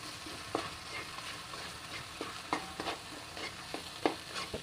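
Peanuts stirred with tamarind water in a pan, a soft sizzling bed broken by repeated scraping and clacking strokes of the spoon at an irregular pace, close and fairly quiet.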